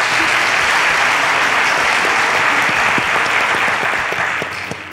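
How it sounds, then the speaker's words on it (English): Loud studio audience applause on a talk show, a thick burst of clapping from the crowd that stays full for about four seconds, then starts to thin out. "A round of applause for the lovely Fisayo"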